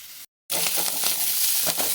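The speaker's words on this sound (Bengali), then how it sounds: "এটা আমি একটু হালকা ভাজা ভাজা করে নেবো" Freshwater snails (apple snails) fry in a pan with turmeric and salt, a loud close sizzle bursting in after a brief gap of silence and continuing with crackles and stirring.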